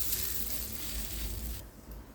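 Ragi roti dough sizzling on a hot tawa, a steady close hiss that drops off sharply near the end, no talking.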